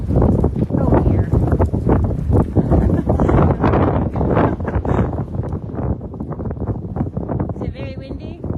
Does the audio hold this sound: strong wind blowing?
yes